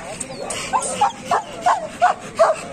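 Dogs, including German and white shepherds, bark in short repeated bursts at a dog show, about six barks at a moderate distance over a murmuring crowd.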